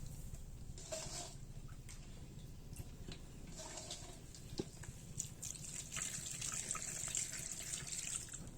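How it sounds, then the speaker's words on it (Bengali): Tap water running steadily into a bowl or sink while dough is being made in a home kitchen, a faint continuous trickle with soft drips and splashes near the microphone. "আর পানি দিতে হবে।"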